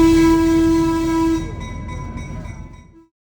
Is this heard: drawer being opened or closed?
no